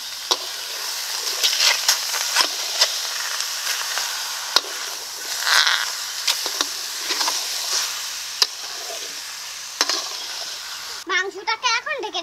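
Chicken goes into a hot wok with whole spices and no oil, a soft continuous sizzle with sharp spoon knocks and scrapes at intervals, close, and a brief voice near the end.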